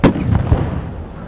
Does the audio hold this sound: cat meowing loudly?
no